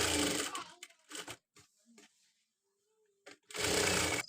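A sewing machine runs in two loud, sustained bursts while stitching a blouse, with a few brief spoken words in the quiet gap between them.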